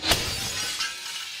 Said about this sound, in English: The window shattered, but look, the Tapco security screen is still intact